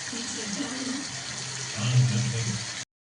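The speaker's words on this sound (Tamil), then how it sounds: "எண்ணெய் ஊற்றி கருவேப்பிலை போட்டு கொதிச்சிட்ருக்கு" Hot oil with fennel seeds and curry leaves sizzling in a pan for Tamil mutton kuzhambu, a brief, steady, close frying hiss that swells near the end and then cuts off.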